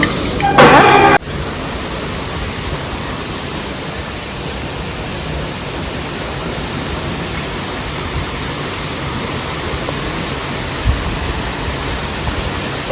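Water pouring steadily into a bath, a continuous even rushing hiss that runs throughout after a brief clatter at the start.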